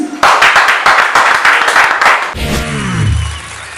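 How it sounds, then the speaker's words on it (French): Comedy club audience clapping in quick, sharp bursts for about two seconds, then the claps fade under a low tonal sweep and room noise. "un tonnerre d'applaudissements pour mon ami Basek Fils"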